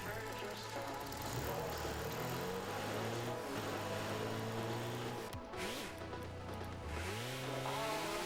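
Car engine sound option in the video game Rocket League, with engine tones rising and falling as the car revs and accelerates, mixed with game noise and low talk.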